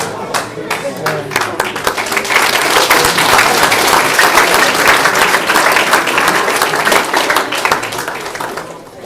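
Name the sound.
audience applause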